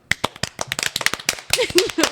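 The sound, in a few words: round of applause for Greg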